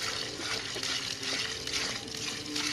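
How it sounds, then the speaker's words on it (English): Water pours into a tub for mixing concrete when building a carport, a steady sloshing, splashing flow heard up close and fairly quiet. "So I'm going to put most of this water in here."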